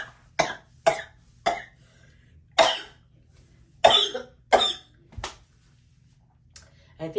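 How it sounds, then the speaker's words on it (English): A woman coughs repeatedly, about a dozen sharp, harsh bursts in irregular clusters with short quiet gaps between, close and loud, with no speech. "I've coughed so much."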